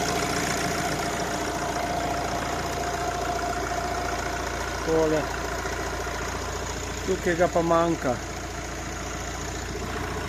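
An Opel Vivaro B van with a 1.6 CDTI R9M Euro 6 diesel engine idles steadily and close, its even rumble running throughout while someone speaks briefly over it.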